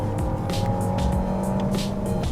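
A Volkswagen Golf 8 First Edition with a DSG gearbox slows under light braking, its engine hum and road rumble steady and close inside the cabin with brief higher whooshes of wind and tyre noise.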